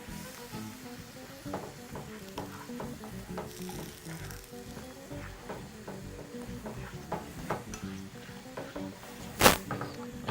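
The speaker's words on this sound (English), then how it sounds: "And now this is now cooking at high heat" Peas and chicken rice mixture frying in a pan over high heat gives a steady, close sizzle with soft stirring scrapes and clicks, plus one sharp clatter near the end.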